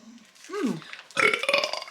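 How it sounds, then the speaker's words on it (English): A short, croaky burp rises and falls, followed a moment later by a second, louder and rougher burp, close to the microphone. "that little tiny bit of tonic was making me burp."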